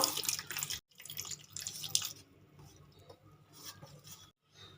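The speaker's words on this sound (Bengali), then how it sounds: "অল্প অল্প করে জল দিয়ে ব্যাটারটা বানিয়ে নেব" Water pours in small amounts into a bowl of flour and salt for batter, brief trickles and splashes with short pauses between them, close and fairly quiet.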